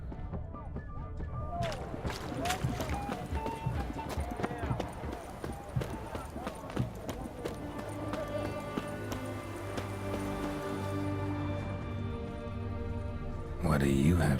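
Horse hooves clip-clop at a walk in The Witcher 3: Hearts of Stone, an even rhythm running under game music and character dialogue throughout.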